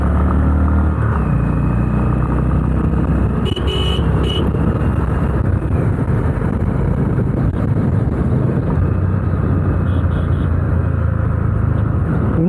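A Honda Highness CB350 motorcycle engine gives a steady, loud rumble throughout, low and continuous with a slight throb, idling or cruising close by.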